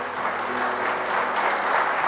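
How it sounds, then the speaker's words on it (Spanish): Sustained applause from a church congregation at a Spanish-language worship service, a dense, steady wash of many hands clapping at even loudness throughout. "Dele un aplauso a Cristo."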